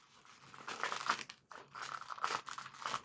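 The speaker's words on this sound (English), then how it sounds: "All right, you need to take a piece of tape," Masking tape pulled from the roll and crinkled in the hands, producing a close run of dry crackling and tearing rustles in two bursts split by a short pause.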